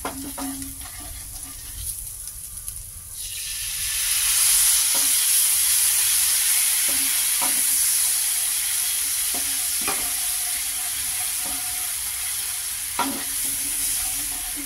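Chicken frying in a pan as a mixed sauce of chili, tomato, soy and vinegar goes in, a steady loud sizzle swelling after a few seconds, with scattered clicks of stirring throughout and no talk.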